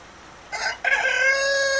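A black Mutlet bantam rooster lets out a short cluck, then a clear crow, close by and loud in a quiet setting at evening.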